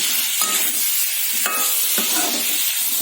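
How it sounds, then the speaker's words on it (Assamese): Steady sizzling of lemon pieces frying with spices in a hot pan for lemon pickle, with a few stirring scrapes and clinks standing out over the hiss. "অকণমান কমকৈ মই অকণমান ভাজি ল'ম"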